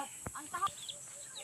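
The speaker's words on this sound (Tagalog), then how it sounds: "So ayan, ang dami pong manok." Chickens in a large backyard flock, with a few short clucks and calls, some fairly close, over a steady hiss of ambient noise.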